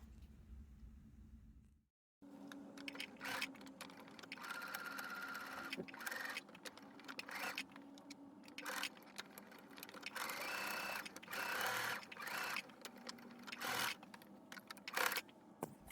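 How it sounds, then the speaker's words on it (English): A sewing machine joins teddy bear fabric pieces, a close, steady mechanical whirr in uneven runs after a short quiet start. "And then when they all together, then simply we're just gonna sew them together."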